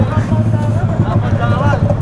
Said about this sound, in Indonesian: Ini motornya kencang nih dia.